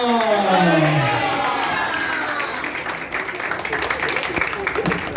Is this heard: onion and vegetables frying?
no